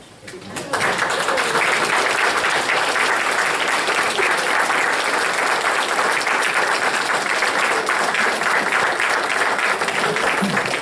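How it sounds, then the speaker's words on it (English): An audience gives steady, sustained applause for veterans standing at a gathering, rising quickly after a brief quiet start and holding a dense, even roar of clapping. "we can give them our applause and appreciation"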